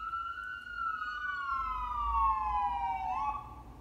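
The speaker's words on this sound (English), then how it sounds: "Sorry, don't have the lungs to yell over a siren." An emergency siren passes outside with a single long wail that slowly falls in pitch, fairly loud, over low traffic rumble, with no talking.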